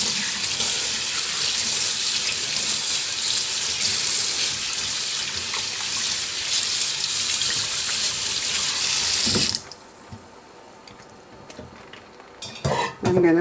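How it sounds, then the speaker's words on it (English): Tap water runs hard into a kitchen sink while a corned beef brisket is rinsed under it, a loud steady splash for about nine seconds, then the flow stops and a few clattering handling sounds follow. "And then I'm going to rinse my corned beef."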